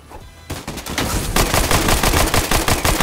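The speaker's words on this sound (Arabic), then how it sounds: "ورب انا قاعد اطلق" Rapid bursts of automatic gunfire from the Fortnite video game rattle out close and loud, firing in a fast, slightly uneven rhythm that carries on through most of the moment.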